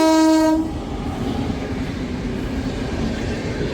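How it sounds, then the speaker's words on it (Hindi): A Delhi local train passes close by near Akshardham: the horn blast cuts off early, then the rolling rumble and rattle of wagons carries on steadily. "सामने यहीं से ट्रेन जा रही है।"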